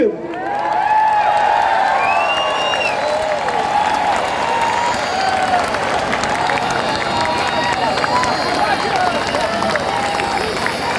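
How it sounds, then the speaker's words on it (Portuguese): A large crowd at an outdoor political rally on Copacabana applauding and cheering steadily, dense clapping with shouts and whistles spread across the scene, loud and continuous throughout. "uma salva de palmas para Elon Musk"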